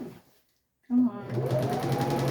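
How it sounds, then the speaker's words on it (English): A sewing machine running a stay stitch along bias-cut fabric, starting after a brief pause and whirring steadily close by, with a voice talking over it. "So I'm just adding a stay stitch to keep the cross grain from stretching out."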